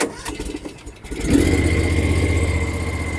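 A Bad Boy lawn mower engine cranks briefly, catches and settles into a steady, loud mid-range running drone that continues to the end, with no talking.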